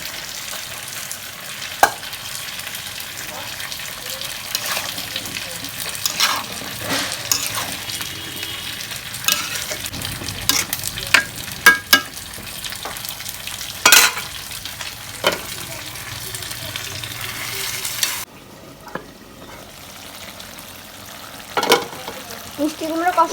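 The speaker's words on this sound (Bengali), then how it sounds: "ছোট চিংড়ি মাছটা কষানো হয়েছে, এখন আমি মিষ্টি কুমড়ো দিয়ে দিচ্ছি।" Sweet pumpkin sizzles and is stirred with small shrimp in a hot pan, a steady frying hiss broken by scrapes and clicks of the spatula, with little talk.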